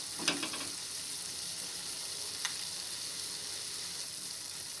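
Tomato chutney with tamarind cooks in a pan with a steady, even sizzle and bubbling, broken by a couple of brief clicks or stirs near the start and the middle.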